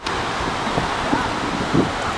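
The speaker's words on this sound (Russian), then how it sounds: "Ветер уносит, ветер сильный." Strong wind buffets the microphone on a Florida ocean beach, a loud continuous roar mixed with surf, while someone talks briefly over it.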